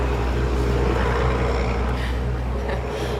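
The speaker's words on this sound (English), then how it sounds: "I think you might be able to hear that truck." A truck rumbles past outside an apartment complex, a steady low drone of engine noise filling the short stretch without speech.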